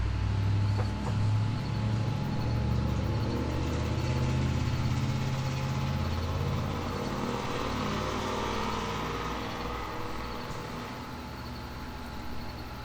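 Vehicles passing outside, likely fast cars or motorbikes, as a steady low engine roar that swells and fades slowly across the whole stretch with no talk over it.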